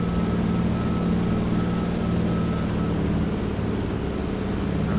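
A De Havilland Beaver floatplane's radial engine drones steadily at climb power, a loud continuous propeller hum with a low throbbing tone, heard from inside the cockpit.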